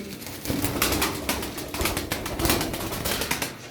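A flock of tumbler pigeons nearby, with soft cooing and repeated bursts of fluttering wings over a steady outdoor background.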